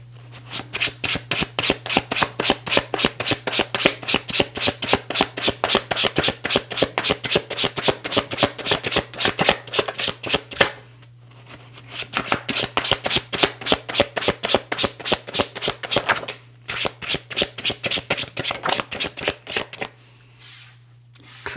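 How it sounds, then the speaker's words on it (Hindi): A deck of tarot cards being shuffled by hand makes loud, close, rapid riffling flutters in long bursts, broken by short pauses, over a faint steady hum. "हम आपके कार्ड्स को शफल करते हैं"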